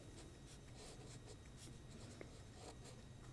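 A pen scratches softly across paper while a statistics exercise is written out, giving faint, steady strokes that are nearly buried in a constant hiss, with no talking.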